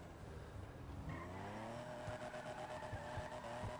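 Exhaust note of a Mercedes Gullwing drift build on low tracks in GTA V, a steady engine drone with rising revs and some tire squeal, fairly quiet and continuous throughout.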